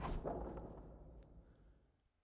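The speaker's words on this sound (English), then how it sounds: "An explosion?" Explosion in The Hundred Line Last Defense Academy video game: one distant, muffled boom that rumbles and fades away over about two seconds, quiet and heard alone.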